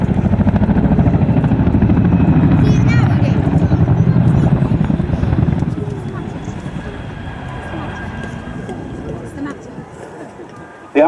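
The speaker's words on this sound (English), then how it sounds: "there was a good demonstration of the characteristic blade slap of the twin rotor" Twin-rotor Chinook helicopter passing with loud, steady rhythmic blade slap and rotor thrum, strongest for the first half and then fading as it moves off.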